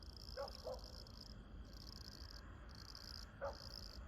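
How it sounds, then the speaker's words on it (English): Crickets chirp in steady, continuous trains through a summer night, with a few short frog calls breaking in near the start and again toward the end, all fairly faint and outdoors with no talking. "But we get some of the neatest sounds, the frogs and the crickets."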